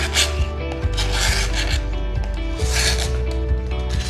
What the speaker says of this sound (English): Take the scraper and go down with the grain.